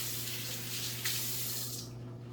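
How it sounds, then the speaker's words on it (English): Kitchen tap runs water over hands being washed, a steady hissing splash that holds at an even level, briefly brightening mid-way, before thinning out at the end. "Wash your hands."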